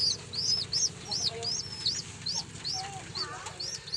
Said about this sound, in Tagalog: Ito sila mga kalapatids.